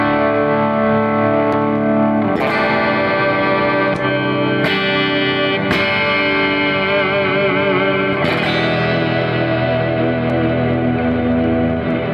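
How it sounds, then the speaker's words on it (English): Electric guitar played through a super long reverb patch in Guitar Rig 5, with sustained chords washing into one another in a dense, continuous, heavily echoing tail and fresh strums cutting in every few seconds, loud and constant throughout. "The super long reverb. That's another patch I could never run in high mode."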